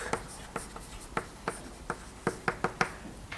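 Chalk or marker taps and strokes on a board in a math lecture, a dozen or so short, crisp marks in an uneven rhythm, close and clear, with no talking.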